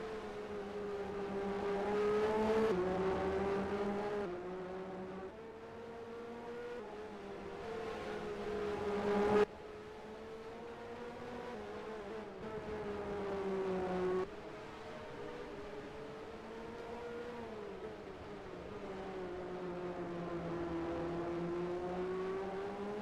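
Race cars lapping the Hungaroring circuit in a racing video game, a continuous high engine whine that rises and falls with gear changes and passing cars, fairly faint and steady across the whole stretch.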